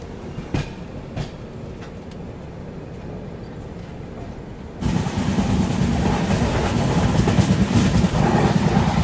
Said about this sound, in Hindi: कोई तो गाड़ी आ रही है यहाँ पे पटना वाली लाइन से